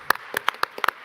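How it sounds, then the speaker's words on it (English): A handful of separate, scattered hand claps from an audience at a COP 28 high-level event, marking a treaty endorsement by Palau. The claps are brief and uneven, moderately near, and fade out within about a second. "Yes, big round of applause."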